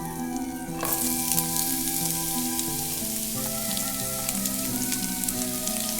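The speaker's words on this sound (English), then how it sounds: "If you hear sizzling, you're good to go." Onion sizzles and crackles in a hot pan, starting suddenly and continuing loudly and steadily up close.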